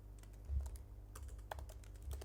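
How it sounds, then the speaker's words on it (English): Quiet, steady typing on a computer keyboard, with a run of light key clicks and a few slightly louder taps, heard alone without speech. "So here we can type a prompt"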